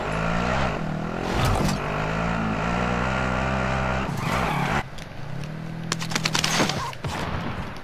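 Vehicle engine droning steadily in the Warzone battle royale video game, loud and close with shifting pitch, then a brief dip before sharp impact and rattling noises break in near the end.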